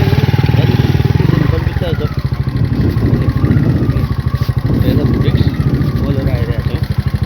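A motorcycle carrying two riders rolls down a slippery road, its engine holding a steady, close, low rumble from start to finish with muffled voices faintly underneath.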